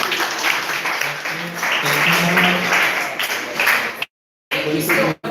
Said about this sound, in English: Can we all please give them a round of applause?